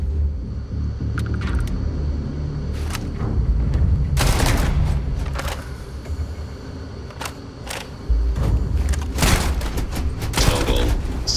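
Starfield space combat, with rapid bursts of ship weapons fire and sharp blasts over a constant low rumble, loud and repeated at irregular intervals.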